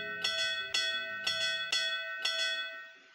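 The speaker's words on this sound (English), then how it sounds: "All that's left is to ring the bell and wait." A bell rings five times in a steady, deliberate rhythm in the video game Camera Anima, each bright metallic strike ringing out clearly and decaying before the next.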